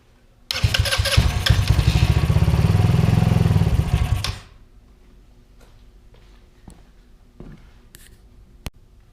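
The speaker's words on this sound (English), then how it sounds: "make a test to make sure the engine will start" A small 150cc go-kart engine sputters to life and runs loudly for about four seconds, then cuts off, leaving faint ticking and a few clicks.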